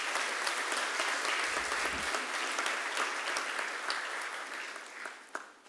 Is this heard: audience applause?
yes